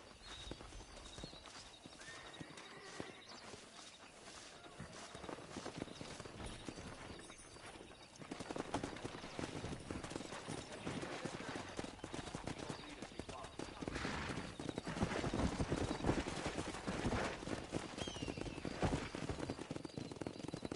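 Horses' hooves clip-clop in the video game Red Dead Redemption, a continuous rhythmic trotting that grows louder midway as more horses gallop together, with occasional gunfire and whinnies mixed in.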